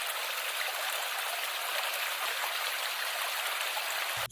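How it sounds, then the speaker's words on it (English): Mountain spring water gushing through narrow gutters that feed a pool at Mount Arayat National Park, a constant close hiss of rushing water that cuts off abruptly at the end. "we can see the narrow gutters where spring water gushes"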